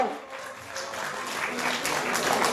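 An audience claps at a Lumbini folk-duet (lok dohori) awards ceremony, a sustained wash of applause that swells slightly toward the end, with a host's voice over it.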